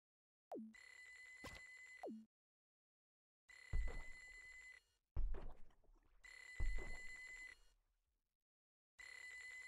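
A telephone rings in the fishing video game Normal Fishing, giving three separate bursts of bright, steady electronic ringing with short pauses between them and a fourth starting at the end, close and fairly loud, with no talk.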